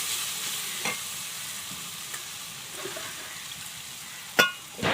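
Spice paste of cumin, ginger, chilli and turmeric being stirred and sautéed in a pan while cooking jackfruit, a soft steady sizzle with occasional utensil scrapes and a sharper clink near the end.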